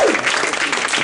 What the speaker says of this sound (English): Give me a round of applause for leaving the South Bay.